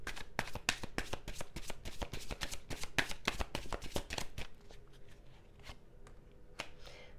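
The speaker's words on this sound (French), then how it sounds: "Je continue juste le tirage avec quelques cartes du tarot." Tarot cards being shuffled and drawn during a reading, a rapid run of crisp riffling clicks close up for several seconds, then slowing to a few isolated card snaps.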